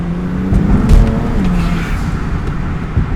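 A borrowed car's engine revs up close, its loud, throaty note climbing and dropping through several throttle blips over a continuous idle rumble.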